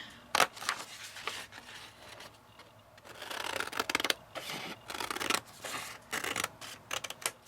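Scissors snipping through file-folder cardstock to cut out a paper craft tag, a run of short crisp cuts and rustles, close and moderately loud, with no one talking.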